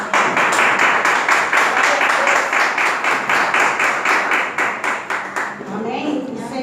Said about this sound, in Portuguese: e as palmas louvam ao Senhor.